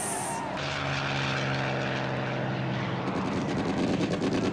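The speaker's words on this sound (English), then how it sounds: "You shooting at planes? C-47s. Bring supplies." C-47 propeller transport planes flying over during a wartime supply drop, a loud steady droning engine roar with a sustained low hum that builds and throbs slightly as they pass.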